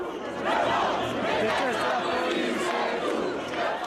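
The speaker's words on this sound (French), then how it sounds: "Ils étaient des milliers réunis place de la République, lieu de rendez-vous de la manifestation contre le racisme et les violences policières" A dense crowd of thousands of protesters roars and chants together at a demonstration against racism and police violence at Place de la République, loud and continuous.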